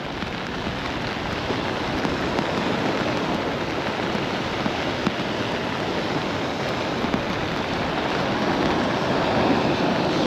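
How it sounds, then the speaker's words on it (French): Steady rain pouring down on a beach during a surfcasting session on Oléron, a dense, constant hiss mixed with surf and wind noise, loud and unbroken throughout. "Oh là là, là ça pleut."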